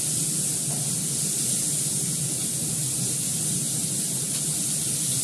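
Onion, beans and potato frying in a pan of hot oil after fish has been fried, a steady close sizzle and hiss that continues evenly with no breaks.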